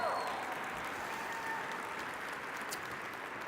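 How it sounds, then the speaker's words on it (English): A theatre audience applauds a man called up on stage at a motivational talk, a dense, steady wash of many hands clapping at even loudness throughout. "Give Chris a round of applause."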